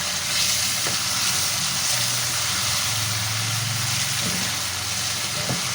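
500 grams of chicken tikka frying in a kadhai pan, a loud, dense, continuous sizzle with a few scrapes and clinks of stirring and a low hum beneath.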